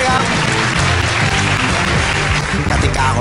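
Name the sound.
studio audience applause on Thai quiz show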